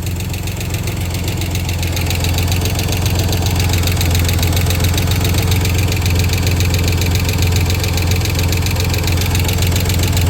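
Chrysler 3.0 V6 in a 1993 Dodge Caravan idling, a loud, steady close-up engine drone with a rapid rhythmic ticking or knocking running throughout, no talking.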